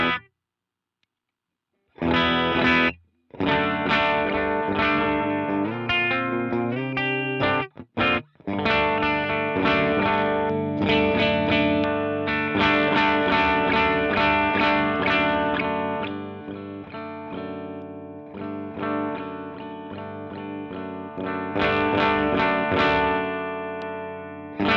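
Electric guitar runs through a 29 Pedals Euna pedal, playing distorted chords and riffs loud and close. A brief tuning pluck comes first, then near-continuous playing with a few short gaps.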